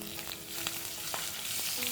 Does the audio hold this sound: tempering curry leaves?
yes